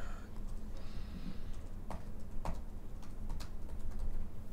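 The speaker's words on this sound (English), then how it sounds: "Do you hear me typing?" Typing on a computer keyboard: a run of light, uneven key clicks with a few sharper taps standing out, fairly close over a steady background hum.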